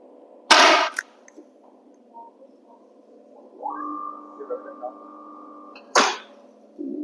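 An Olympic target pistol fires two sharp, loud shots a few seconds apart, with a faint tone and a quiet voice in between.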